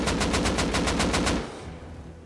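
Kalashnikov rifle fire in the survival game Rust: a rapid automatic burst of about a dozen shots, loud and close, then trailing off into a fading echo.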